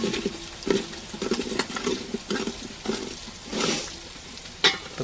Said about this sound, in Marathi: खोबरं टाकलं तर त्याला परतून घेणार त्यांनी